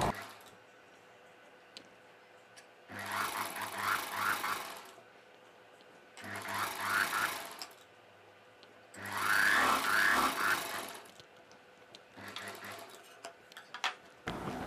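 A sewing machine stitches the folded hem of a dress sleeve in four separate bursts of rapid whirring, each a couple of seconds long, with quiet pauses between them. Nearby and fairly soft, with no talking.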